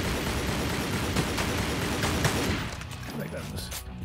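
Dense, rapid gunfire crackles continuously in Tomb Raider Legend's Nepal level, then thins out near the end. The shots sound somewhat distant and muffled under the game mix.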